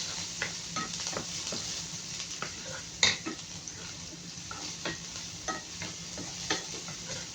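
Sliced onions fry in hot oil for pancit canton, sizzling steadily while a utensil stirs and scrapes the pan in repeated irregular taps, with one louder clank partway through.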